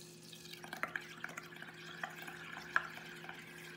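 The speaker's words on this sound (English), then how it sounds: "with your straw, you're going to blow into the mixture" Air blown through a straw into a bubble paint mixture makes soft, irregular bubbling pops and gurgles, faint and close, over a low steady background hum.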